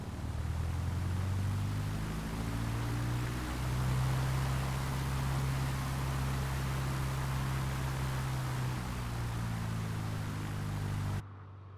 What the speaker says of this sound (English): This is the outside. I'm going to do a run up here.